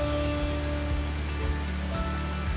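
Steady broadband rush of falling water from the indoor Rain Vortex waterfall, continuous and fairly loud, with a low rumbling undertone and periodic deeper surges.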